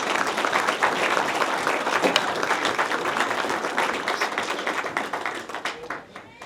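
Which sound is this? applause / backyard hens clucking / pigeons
applause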